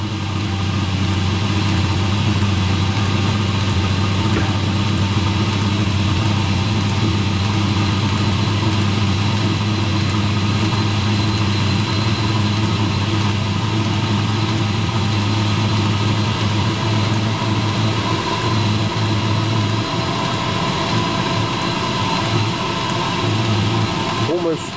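An old Eberspacher diesel heater runs continuously with a steady, loud combustion hum and low drone, holding an even, unbroken tone throughout.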